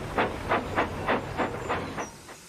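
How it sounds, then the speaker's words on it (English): A steam tram engine in the Trainz train simulator game puffs in a steady rhythm, about eight evenly spaced hissing chuffs close up, with faint rail rumble underneath. "he puffed, and he chuffed off to Gordon's Hill"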